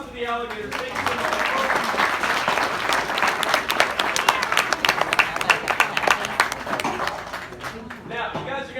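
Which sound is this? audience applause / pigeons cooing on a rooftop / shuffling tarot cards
audience applause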